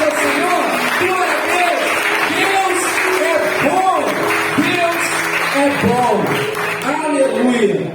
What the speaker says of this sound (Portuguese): Você pode aplaudir bem forte o nome do Senhor?